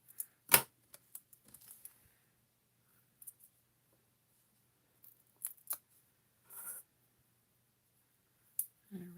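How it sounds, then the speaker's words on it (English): Sharp, close scissor snips cutting foam dimensional adhesive pads for a handmade card with winter trees and birds, a few isolated crisp clicks spaced out across a quiet stretch, with small handling sounds between them. "Anybody else snip their dimensionals like this?"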